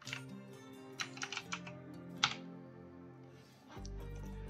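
Quiet computer keyboard typing, a handful of soft key taps in quick clusters, followed by a low steady hum near the end.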